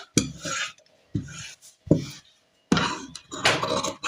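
Scissors cut through blouse fabric in several separate bursts of snipping and rasping, close and fairly loud, with short silent pauses between cuts and no talking.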